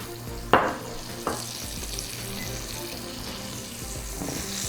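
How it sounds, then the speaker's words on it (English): Steady frying sizzle of butter in a pan with a couple of sharp clatters near the start, continuing evenly without talk. "I'm going to add a little butter to my pan. Let that sizzle down."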